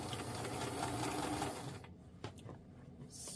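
A home sewing machine back stitches along an underarm garment seam, running in a steady close whir for nearly two seconds before dropping to quiet handling sounds with a few light clicks.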